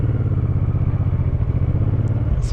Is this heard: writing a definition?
no